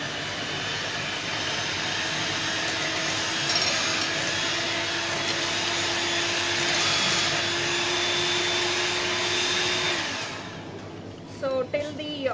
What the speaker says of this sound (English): So I have to beat the butter.